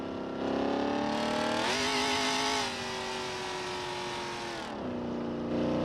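Corvette C6 ZR1 engine in BeamNG.Drive, revving hard with a loud rising howl that holds at high pitch, then drops back to a lower steady drone before climbing again.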